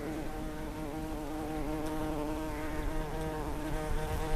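Honey bees buzz around a hive with brood frames, a dense, steady droning hum of many wings, continuous and close throughout.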